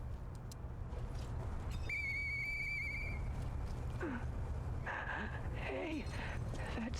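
A single sustained whistle rises in a video game, a clear steady tone lasting about a second over a low rumbling background, followed by squealing, whinny-like animal calls.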